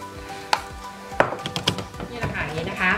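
Fresh food being chopped with a knife on a board, several sharp separate knocks followed by a quicker run of softer cuts, close and fairly loud, with a voice talking faintly at times.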